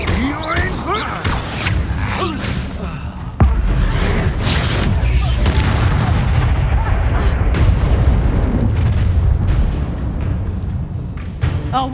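Incendio fire spell cast in Hogwarts Legacy, bursting in with a sudden whooshing roar partway through and sustaining a loud crackling, rumbling blaze amid other combat clatter.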